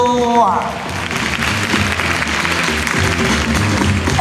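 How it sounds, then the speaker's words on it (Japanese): A crowd at a high school dance crew battle award ceremony breaks into sustained, enthusiastic applause with a few cheers, continuing steadily; a voice speaks briefly at the start over music. "大きな拍手。"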